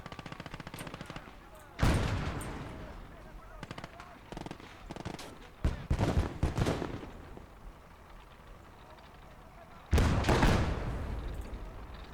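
Gunfire in the World War II strategy game Call To Arms: Gates Of Hell: scattered single shots and short bursts, with two loud sharp blasts near 2 and 10 seconds and a cluster of rapid shots around 6 seconds, over a steady battle background.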